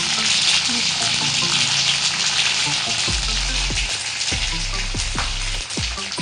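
Cumin seeds hit hot oil in a pan while making spicy puffed rice chivda, setting off a loud, steady crackling sizzle that runs throughout, with a few low thumps partway through.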